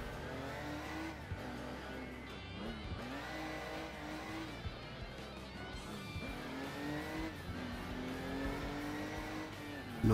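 A car's engine revs and drops through repeated gear changes in the Crash Time driving game, with a constant roar, rising whines and tire noise, and no one talking.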